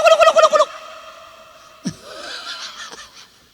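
A voice imitates a turkey gobbling with a quick, loud warbling burst, followed by a short gasp and a faint, wavering trailing call.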